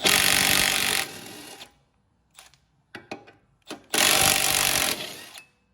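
Power tool loosening a bolt on the coilover suspension of an R33 sedan, two long loud buzzing bursts separated by a few short sharp mechanical bursts, close by with no talk.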